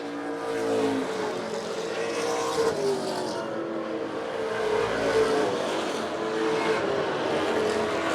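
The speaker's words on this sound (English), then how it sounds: "As he is racing with the 14 of Josh St. Clair for the division title in the early going." Pro stock race cars race on a track, their engines roaring loudly and continuously, with pitch rising and falling as they pass, under faint background sound.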